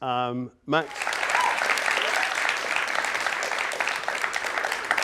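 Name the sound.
audience applause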